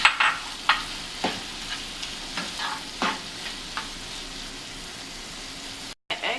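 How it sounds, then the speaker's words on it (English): A spoon stirs a sauce with green peas and egg frying in a pan for Nigerian fried yam, with steady sizzling and repeated scraping strokes in an irregular rhythm, close and fairly loud. "So I stir it together."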